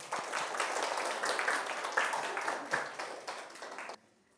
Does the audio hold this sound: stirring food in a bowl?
no